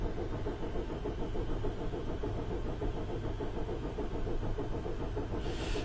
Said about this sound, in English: the sound is the steam exhaust of the steam-powered air compressor